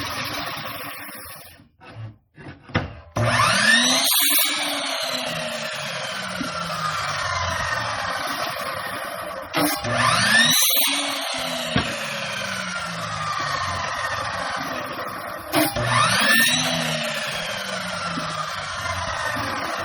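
A power saw repeatedly spins up and trims the edge of a wooden picture frame, three loud whining passes each rising and settling, separated by brief gaps.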